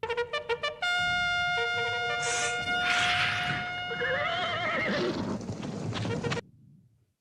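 Loud, high whinnying cries of horses with wavering tones, several overlapping, fairly close, from the 1970 film Waterloo, ending abruptly into near silence.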